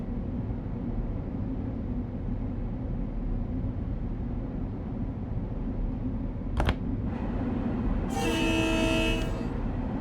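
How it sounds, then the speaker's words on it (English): A horn blast from an M7A EMU commuter train sounds inside a dark tunnel in Train Sim World 4, loud and harmonic for about a second over a steady rumble of the train running. "Sounding my horn in a tunnel."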